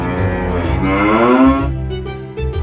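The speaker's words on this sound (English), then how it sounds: "these super friendly cows" Cows on farm grounds in Ireland give a long, loud, close moo with a rising tonal bellow, then fade into quieter lowing near the end.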